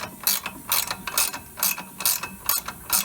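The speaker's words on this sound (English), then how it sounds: "I know you don't want to sit here and watch this ratchet away" Ratchet wrench tightening an upper control arm bolt on a 2005 Ford Explorer, close up: a steady series of quick clicking bursts in an even back-and-forth rhythm, about eight strokes, with no talking.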